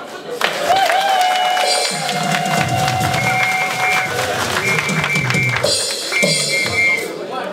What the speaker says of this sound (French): Il faudrait que vous applaudissiez tous pour notre reine que voici.